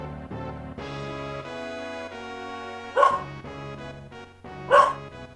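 A dog barks from a distance: a couple of sharp barks interspersed with whining, yipping tones, heard alone with no voices.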